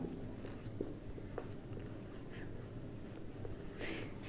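Pen writing by hand on paper during an accounting lesson, soft faint scratching strokes over a low room hum with a few small taps, close by and quiet.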